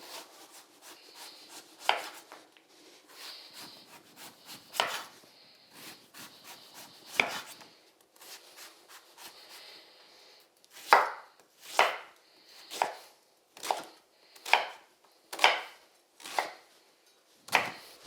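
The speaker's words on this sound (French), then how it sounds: "Et ces fines tranches, eh bien on va les tailler comme ceci, pour faire comme des petites tagliatelles." A knife chops thin celery slices into tagliatelle-like strips on a board. The crisp, close cuts come slowly and irregularly at first, then as a steady run of evenly spaced strokes.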